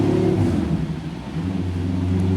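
LS V8-swapped BMW E30 with a stock 6.0 engine accelerating through the gears on a run, heard from a distance as a steady engine drone that dips briefly and then climbs again.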